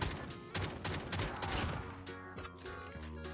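Rapid gunfire in Call of Duty Mobile, dense bursts of automatic shots and explosive cracks filling the clip, loud and continuous before thinning into a few separate shots.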